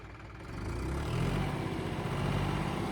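A modified John Deere 5055 tractor refitted with an inline fuel pump runs with a steady, rumbling engine drone. It rises slightly after a soft start and holds a constant, close hum with no talk.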